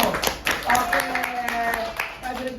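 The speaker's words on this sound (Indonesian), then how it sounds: "tepuk tangannya dulu" An audience at a school storytelling event claps their hands in a series of sharp, uneven bursts, with voices speaking over and around the clapping.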